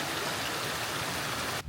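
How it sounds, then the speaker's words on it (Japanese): A small, clear stream flows beside an unpaved trekking path near Sofia, Bulgaria, producing a steady, close, broadband wash of running water that continues evenly and cuts off abruptly at the end. "早速綺麗な小川。"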